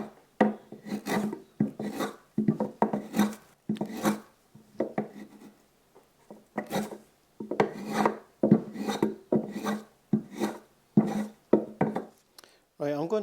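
A hand tool blade pares into a wooden leg mortise for a leg vice, making rhythmic rasping, scraping strokes in short bursts, close and fairly loud, with brief pauses between pushes.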